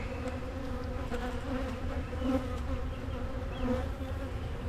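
A swarm of angry honey bees buzzing close around a beekeeper opening a hive, a dense continuous droning hum that stays steady and fairly quiet throughout, with no voices.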